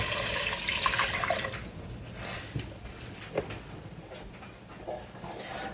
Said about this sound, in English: now you're going to add your chicken broth